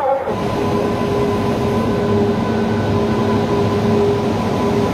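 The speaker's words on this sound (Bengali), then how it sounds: "আসানসোলের 4 নম্বর প্ল্যাটফর্মে চলে এসছে পূর্বা এক্সপ্রেস, হাওড়া নিউ দিল্লি" Purba Express, the Howrah–New Delhi train, pulling in at platform 4 of Asansol station, a loud steady rumble of wheels and carriages with faint tonal hums, continuous and close throughout with no talk.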